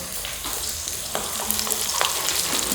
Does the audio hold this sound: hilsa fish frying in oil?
yes